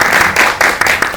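Close, loud clapping from a cinema audience at a Korean film guest-visit talk, rhythmic hand claps in quick bursts over about a second with no talking.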